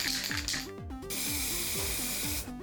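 Aerosol spray paint hisses in short bursts onto a small masked motorcycle part, a broad steady hiss with odd descending tonal chirps running underneath.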